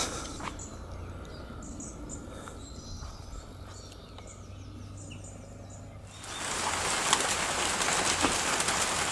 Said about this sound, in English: Well, I'm back from the recycling centre and it's raining